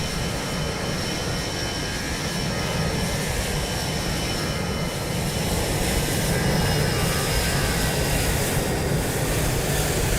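A Transavia airliner taking off in Microsoft Flight Simulator 2020 gives a steady, loud jet engine roar that builds slightly partway through, heard alone.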